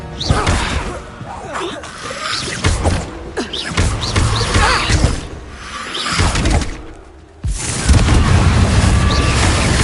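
The Depulso spell is cast in the video game Hogwarts Legacy, a forceful whooshing blast followed by booming, shattering impacts within a loud, busy stretch of combat effects, music and voices.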